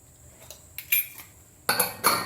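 Metal clanks and clinks of a lid being set onto a pressure cooker cooking yellow peas, a few separate knocks with short ringing tails, no talk.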